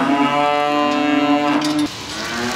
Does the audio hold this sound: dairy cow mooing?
yes